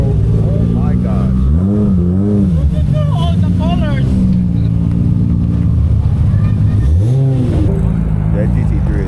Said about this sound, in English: That GT3 is pulling out.